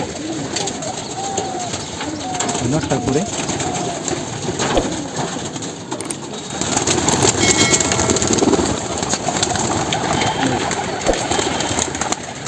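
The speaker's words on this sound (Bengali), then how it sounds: "আরও অনেক সুন্দর সুন্দর কিছু কবুতর আছে" Pigeons coo softly and repeatedly in a loft amid a steady background rumble, with some other birds and a brief voice nearby.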